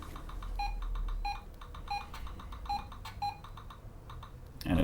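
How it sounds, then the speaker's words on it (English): A vintage Apple IIc computer gives a run of short, evenly spaced high beeps over a low hum, ending in a brief louder clunk. "it's beeping."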